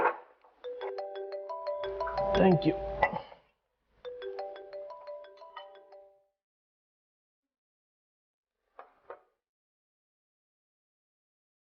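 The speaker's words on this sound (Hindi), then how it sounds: "मेरा फोन बज रहा है" A mobile phone ringtone plays a loud melodic electronic tune in two bursts, then stops, followed by a brief short spoken reply near the end.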